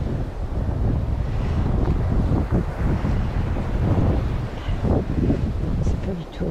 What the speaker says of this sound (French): Le vent, il venait de là.